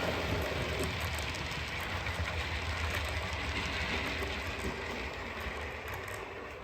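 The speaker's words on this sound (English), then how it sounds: "Just waiting for this West Country locomotive to park itself." A model West Country steam locomotive rolls along a model railway track, a continuous rumbling, clicking roll that eases slightly toward the end as it comes to a stop, with no one talking.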